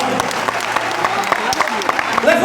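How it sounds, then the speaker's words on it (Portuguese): Church congregation clapping hard during a sermon, a dense steady patter of many hands with shouts and voices mixed in throughout, fairly loud and close. "Pode aplaudir bem forte o nome dele."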